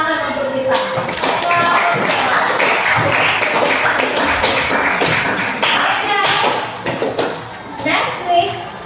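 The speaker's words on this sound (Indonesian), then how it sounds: "Tepuk tangan untuk kita." A classroom group claps hands together in a dense, sustained burst of applause, with children's voices chattering over it and the clapping thinning out toward the end.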